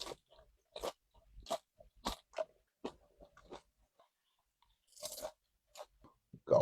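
A crunchy taco from Abelardo's Mexican Restaurant is eaten close up, with sharp bursts of crunching and chewing in an irregular rhythm separated by short quiet gaps and no talk.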